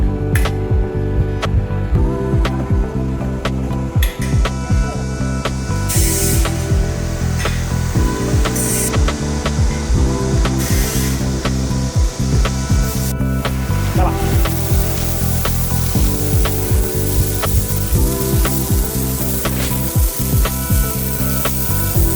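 A 300W pulse laser removing heavy rust from steel plates, a loud crackling sizzle with rhythmic ratcheting pulses that stop and restart in repeated bursts, no talking.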